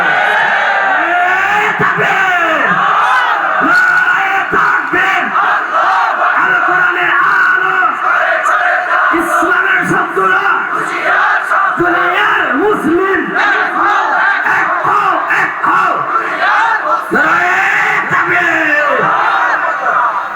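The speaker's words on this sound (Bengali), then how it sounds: "এক আল্লাহর নামে স্লোগান তোলা লাগবে" Large crowd chanting a religious slogan in the name of Allah at an outdoor gathering, loud massed voices rising and falling in a steady chant for the whole stretch.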